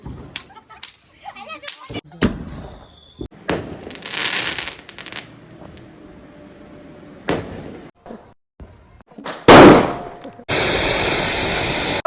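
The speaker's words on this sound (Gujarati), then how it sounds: "ફટાકડા ફોડે છે." Sharp Diwali firecracker bangs pop irregularly, some close and loud, others farther off, with crackling bursts and a sustained hissing rush near the end.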